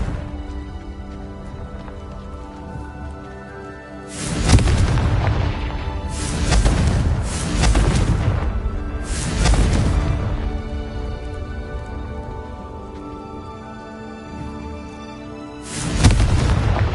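Confringo explosion spells cast in the video game Hogwarts Legacy, four loud booming blasts spaced a few seconds apart over a steady low background hum.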